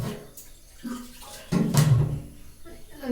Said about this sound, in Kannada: ಅದೇ ರೀತಿ ನೀರನ್ನ ಹಾಕೊಳ್ತಾ ಇದ್ದೀನಿ ಸ್ವಲ್ಪ ಜಾಸ್ತಿ ಮಾಡ್ತೀನಿ